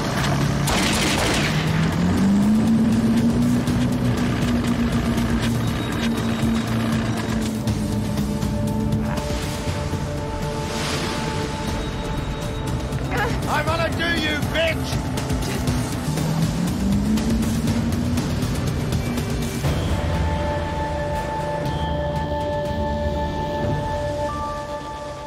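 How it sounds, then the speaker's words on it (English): Patrol boat running with both engines pulled ahead, a steady loud drone rising in pitch as it powers up, with a second surge later and mechanical knocks over the top. "Pull ahead both engines."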